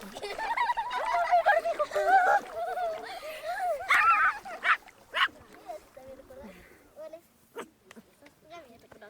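A small dog whimpers and whines close by in wavering high cries, breaking into a few sharp yips and barks before trailing off into quieter whines.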